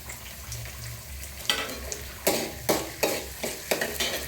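Small onions and tomato frying in a pan and being stirred, spoon scrapes landing in an uneven rhythm of about seven distinct strokes over a soft background sizzle, close and moderately quiet.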